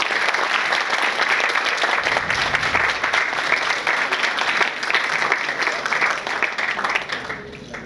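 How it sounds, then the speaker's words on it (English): A memorial event audience breaks into dense, sustained applause, loud and even for most of the stretch before it begins to thin near the end. "Round of applause for IBS."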